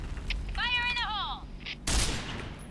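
Gunfire in the online shooter Point Blank comes as a sharp burst near the end, following a man's excited speech during a clan match.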